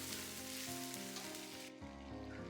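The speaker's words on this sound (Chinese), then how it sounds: "下入18粒干花椒，这一步很重要，一定要开大火给它翻炒均匀，煸炒出香味" Eighteen dried Sichuan peppercorns stir-fried over high heat in a wok, a dense, loud hiss of sizzling oil throughout, with a shift in texture partway through as the pan is tossed.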